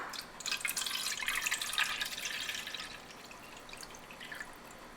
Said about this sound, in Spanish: Vamos a agregarle agua.